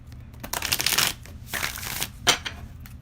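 Tarot cards are shuffled in bursts of crisp riffling and sliding, with short pauses between passes, close and fairly quiet.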